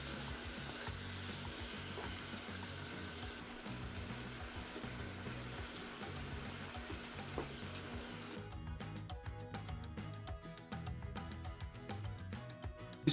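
Sautéed vegetables and spices with dry thyme sizzle in a pot for a coconut shrimp Alfredo sauce, a steady frying hiss with soft stirring scrapes, close and alone without speech.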